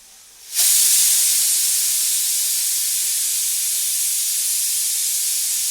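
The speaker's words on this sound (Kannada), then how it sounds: "8 ವಿಷಲ್ ಆಗಬೇಕು ಕುಕ್ಕರ್" A pressure cooker cooking mutton suddenly bursts into a loud, sustained steam hiss after a quiet moment, then keeps blowing steadily and close by with no one talking.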